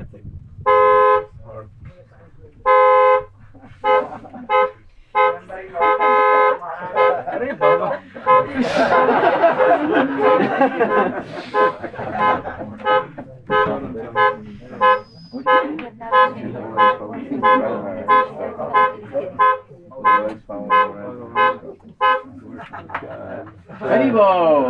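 A car alarm in Vrindavan gardens blares in loud repeating cycles of tones, close and persistent, while someone talks over it and birds coo in the background.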